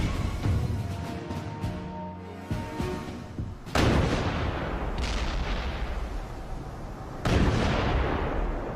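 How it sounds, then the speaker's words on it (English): Heavy naval artillery bombardment of Tarawa in 1943, with deep booming blasts rolling over one another and several loud distinct impacts standing out above a continuous rumble. "the American attack begins with a massive naval bombardment"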